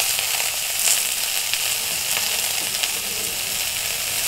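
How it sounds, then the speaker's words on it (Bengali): Eggplant and beans seasoned with salt and turmeric fry in a pan with a steady, close hiss and faint scraping as they are stirred, with no one talking. "এবার আমি ভালো করে নাড়াচাড়া করে নিচ্ছি।"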